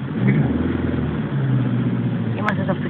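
A car engine accelerating from inside the cabin, a steady mid-pitched drone that dips and then climbs again, fairly loud and continuous, with a brief faint sound near the end.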